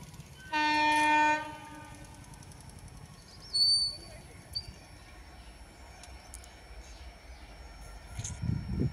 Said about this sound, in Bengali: দেখতে পাচ্ছ ট্রেন আসছে একটা